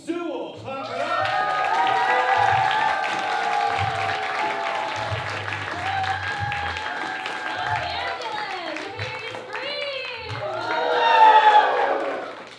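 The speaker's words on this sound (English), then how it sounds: "Clap it up." A stand-up comedy crowd applauds and cheers loudly, with steady clapping, whoops and shouts building to a peak near the end, while a voice speaks over it.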